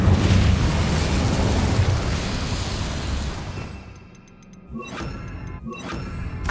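An Incendio fire spell is cast in Hogwarts Legacy, unleashing a loud, roaring whoosh of flame for about three seconds that then falls away to a quieter hiss broken by a few sharp crackling bursts.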